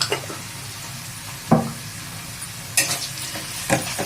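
Potatoes frying in hot oil in a pan are stirred a few times, steady sizzle throughout with sharper scraping clatters of the spoon against the pan at intervals, close and loud, no speech.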